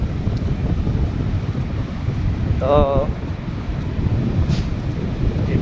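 Wind and sea surf on the beach at Paradip, Odisha, blend into a constant loud roar with heavy gusts buffeting the microphone, and a brief voice cuts in partway through.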